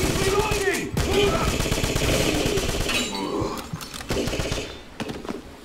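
Rapid gunfire from the Wolfenstein shooter in a train station, with dense bursts of shots repeating throughout and a voice talking in places over the shooting.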